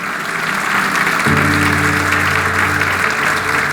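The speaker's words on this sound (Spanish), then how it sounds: "Dale su ofrenda de palmas al Señor," A congregation at a Spanish-language church service claps as an offering of applause, a steady crowd clapping joined partway through by sustained organ or keyboard tones underneath.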